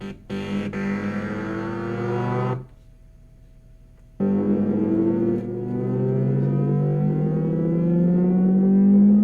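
Synthesizer imitating race car revving, with harmonic tones sweeping up and down through distortion and effects, loud and close, broken by a brief near-silent gap before the engine-like drone returns and climbs.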